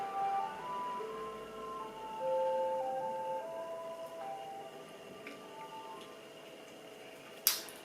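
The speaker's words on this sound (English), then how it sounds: "Ice Cream Truck." An ice cream truck's tinkly melody plays faintly in the distance, its thin repeating notes wavering over steady background hum, with a brief sharp click near the end.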